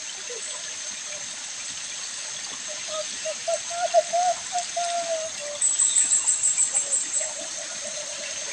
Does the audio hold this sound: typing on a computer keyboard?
no